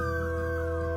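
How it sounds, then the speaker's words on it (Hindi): Dogs howling at night in a cartoon, a sustained, wavering howl with steady tonal layers holding for the whole second, moderately loud and alone without speech. "ऐसे ही एक रात दूर कुत्ते भौंक रहे थे।"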